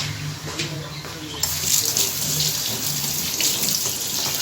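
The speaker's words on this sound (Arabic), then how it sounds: "اغسل ايديا كويس علشان" A kitchen tap runs steadily while hands are washed after handling liver, giving a continuous loud splashing hiss with faint speech underneath.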